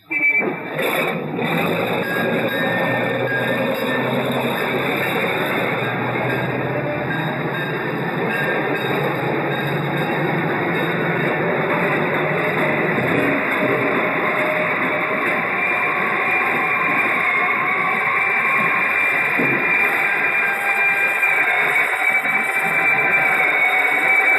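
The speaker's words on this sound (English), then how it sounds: "New York is a city of sound, and that sound is the voice of a city." Dense, continuous New York City street noise with a heavy rumbling roar like passing trains and traffic, steady and loud throughout, no clear voices.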